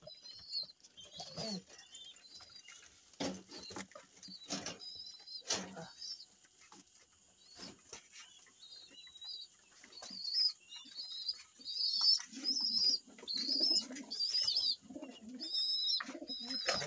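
Pigeons cooing softly at close range while eating rice at an emergency feeding, with repeated low coos, scattered chirps and brief wing flaps across the scene.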